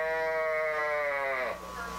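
A sheep in a shearing shack on a New Jersey farm gives one long, close, wavering bleat that breaks off and fades toward the end.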